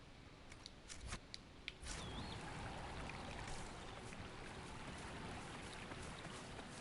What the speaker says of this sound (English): Because that's the waterfall.